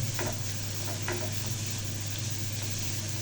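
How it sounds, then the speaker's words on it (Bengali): Chopped green chili and onion fry in hot oil with a steady, even sizzle while a spatula scrapes and stirs now and then, close and moderately loud under a low hum, no voices. "এখন এটা বেশ কিছুটা ভেজে নেড়ে নেব"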